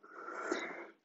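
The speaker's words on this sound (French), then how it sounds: "Inspire par le nez." Steady nasal inhalation during a flow exercise session, a single drawn-in breath lasting about a second, close and fairly quiet with a soft airy hiss, no talking.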